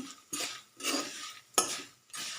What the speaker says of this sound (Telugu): బాగా వేపుకోవాలండి.